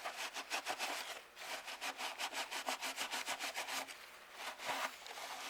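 Steady rhythmic rubbing strokes as a cloth wipes heavy dust off the cabinet of a 1960s Panasonic television, close and repetitive with a brief pause midway.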